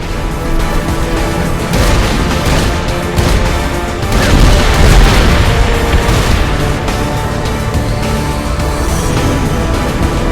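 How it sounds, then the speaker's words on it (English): Explosions and crashing blasts in the open-world shooter Saints Row 4, loud and dense, with heavy booms swelling mid-clip over a continuous game soundtrack. "Blew it up!"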